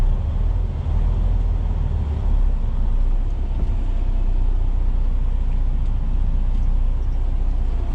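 Steady low rumble of traffic at a truck stop beside a Pilot station and a Chicken Express, with idling and moving trucks and cars blending into a continuous engine drone, no talk.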